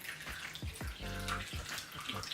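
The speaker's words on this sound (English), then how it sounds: "we're gonna pour onto the pants until it leaks through" Red-dyed water poured onto period pants over a bin bag, heard as a gurgling, splashing pour with bubbly bursts that swells in the middle, close and moderately loud.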